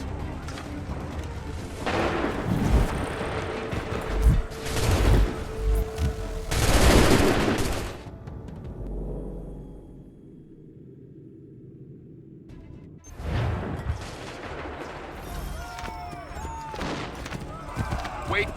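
Musket volley fire in the video game Assassin's Creed 3: several loud, crackling volleys burst out in quick succession, followed by a quiet lull and then a fresh round of ragged shots, with voices heard in the mix.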